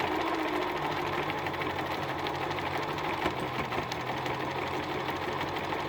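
White sewing machine model 1888 running continuously, a steady fast whirring hum with rapid needle clatter, close and even throughout with no speech.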